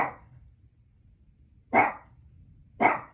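A dog barks three times, sharp and fairly close, with pauses between each bark and quiet in between.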